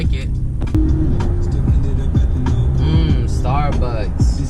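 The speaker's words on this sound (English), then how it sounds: "Oh, look at this car." Car on a busy city street, with engine rumble and passing traffic close by, plus brief chirps and squeals, under someone talking throughout.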